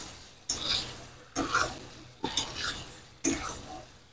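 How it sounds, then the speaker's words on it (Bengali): Potatoes are stirred in a pan for Kashmiri aloo dum, four separate scraping, clattering stirs roughly a second apart, close by, each fading before the next. "আলু দিয়ে খুব সুন্দর করে নেড়ে নেব"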